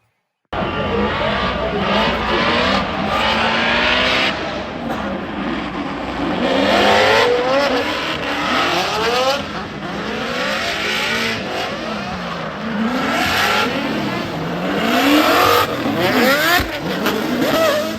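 Race car engines roar and rev continuously around the Road Atlanta track, pitch rising and falling as cars accelerate and pass, with occasional tire squeal.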